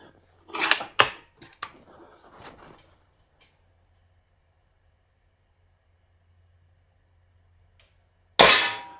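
A Webley Valuemax .22 spring piston break barrel air rifle fires one sharp, loud shot near the end, preceded by a few quieter clicks and knocks and then a long silent gap.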